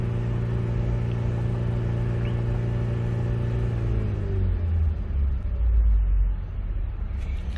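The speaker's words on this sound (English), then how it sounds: "Now I'm holding both the brake and the gas pedal" A 2012 Ford Focus engine held against the brake while the gas pedal is pressed, a loud close idle rumble that rises in a steady rev partway through and stays heavy, no talking.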